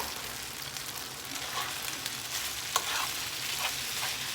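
Onions frying in a pan for a spicy instant noodle dish, a soft continuous sizzle with light stirring scrapes and a couple of brief clicks, fairly quiet and without talk.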